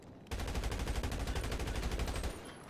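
Rapid automatic gunfire in the roleplay video game GTA RP, a sustained burst of close, loud shots lasting about two seconds and ringing to a stop with no one talking.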